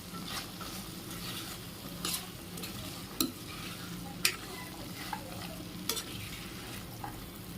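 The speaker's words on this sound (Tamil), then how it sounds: "ஆட் பண்ணிவிட்டு இதையும் நல்லா இந்த மசாலாவோடு மிக்ஸ் பண்ணிக்கிறேன்." Soaked kidney beans (rajma) being stirred into fried masala in a pan for a gravy: a continuous sizzle with occasional sharp scrapes and taps from the spoon, close up and without talk.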